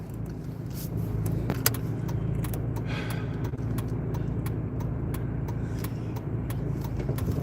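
Cars passing one after another on a busy downtown street, a steady near roadway rumble with repeated pass-bys and no talk.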